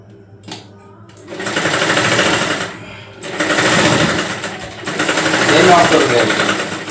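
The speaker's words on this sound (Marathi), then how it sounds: "हा टक शिवून घेऊ मधला." A sewing machine runs in loud bursts while stitching tucks on a blouse, three whirring runs separated by brief pauses, close and steady.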